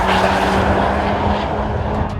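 The exhaust of a 2017 Honda Civic Type R with a center resonator gives a loud, steady, raspy drone with a low rumble underneath, close by and continuous, with no voices.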